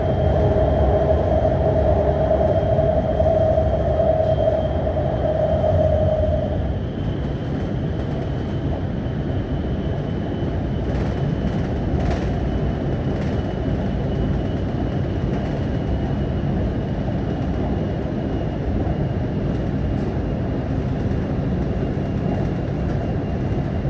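A metro train carries passengers through a Chinese city in freezing winter, a constant low rumble and rolling hum heard from inside the carriage, with a thin whining tone over the first few seconds.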